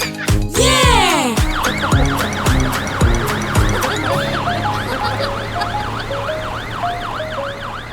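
A cartoon fire engine siren wails in a steady rising-and-falling pattern, loud and close, over bright musical notes in a children's animated show, with no speech.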